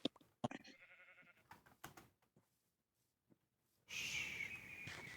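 Sheep bleating in the video game Minecraft, several short wavering bleats near the start, then a quiet gap before a louder burst of game noise.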